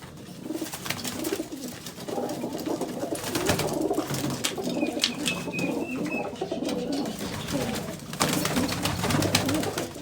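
Pigeons kept as pets coo nearby in repeated soft, rolling calls over a steady background, with several birds overlapping throughout.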